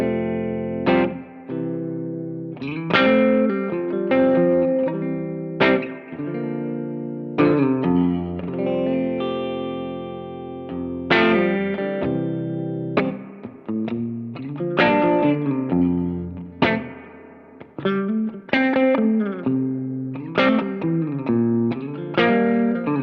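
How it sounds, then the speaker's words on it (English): Electric guitar chords and notes played through an Echo Fix EF-P2 spring reverb, splashy and drippy, each strike ringing out and decaying with a metallic wash. "This is with the reverb."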